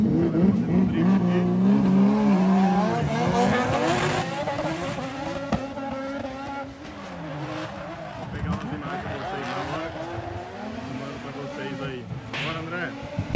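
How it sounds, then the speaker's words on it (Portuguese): A car drifts around a residential compound, tires squealing in long wavering tones over engine revving, with someone talking throughout near the microphone. "Dá um rolê de carro, vai fazer um drift aqui."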